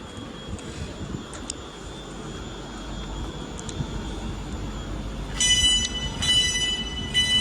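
Passenger train at Lichfield Trent Valley station in England, a steady low rumble of rolling stock with brief higher squeals, growing louder and brighter near the end as it passes close by.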